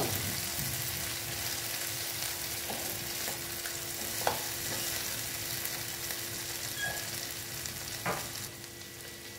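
Masala and spices frying in a pan for egg bhapa with mustard and poppy seed paste, a steady close sizzle with occasional stirring clicks and scrapes, no voices.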